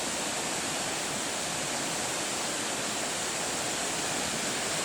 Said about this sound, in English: still getting a cracker of a view of the waterfall